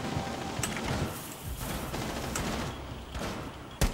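Gunfire in the Rainbow Six Siege video game, a dense, continuous clatter of shots and mechanical noise at steady loudness, ending in one sharper, louder shot near the end.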